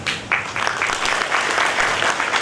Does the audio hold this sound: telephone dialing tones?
no